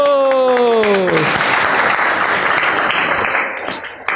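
Audience clapping at a seminar on chanting holy names, rising just after a voice and continuing as a dense, even round of applause for about three seconds before thinning out.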